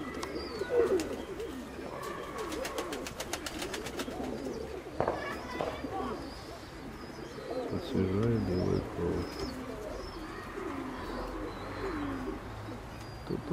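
Pigeons coo softly and repeatedly in a breeding loft, with someone talking over them in Russian and occasional faint chirps in the background.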